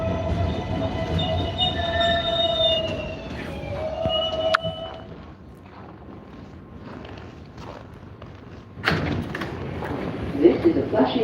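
A New York subway 7 local train bound for Flushing–Main Street runs with steady rumbling and rail noise, brief chime-like tones and a thump early on, then a quieter stretch before the roar rises again near the end.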